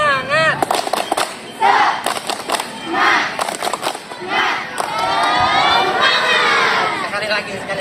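Group of schoolchildren in a classroom ice-breaking activity shouting a 'tepuk semangat' clapping chant in unison, loud and near, with rhythmic claps and cheering voices rising in bursts, then a longer sustained shout.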